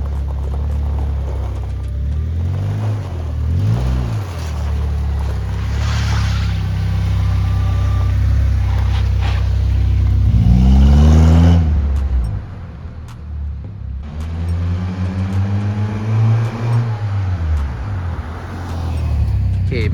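A Honda Civic being prepped for off-road use fires up promptly and settles into a steady close-up idle, with a low engine rumble continuing throughout and a brief louder surge partway through.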